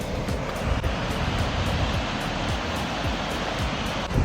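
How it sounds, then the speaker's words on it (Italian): Hengifoss waterfall in Iceland roars in a steady, dense broadband rush, loud and continuous with no voices. "una bellissima cascata"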